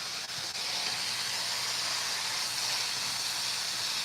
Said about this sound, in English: It's gonna make a steam in it